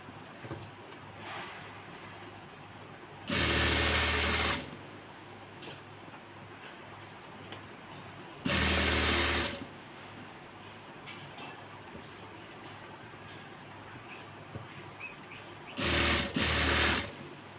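A sewing machine stitching elastic onto the waistband of palazzo pants, three loud, close bursts of fast running stitches about a second long each, separated by quiet handling of the fabric.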